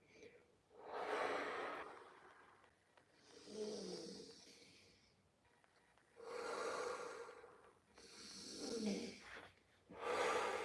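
Slow, deliberate breaths during a qigong routine, several long inhale and exhale cycles of around two seconds each, close and fairly soft, with no talk over them.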